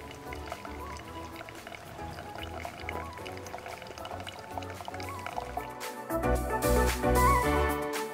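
Hot water poured from a camping kettle to brew coffee outdoors at a campsite in a Canadian provincial park, a steady liquid stream filling a cup that swells louder toward the end.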